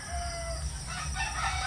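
A village rooster crows once in a drawn-out call in the early morning, moderately distant, over steady rain and wind.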